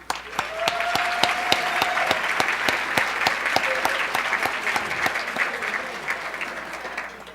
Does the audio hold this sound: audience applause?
yes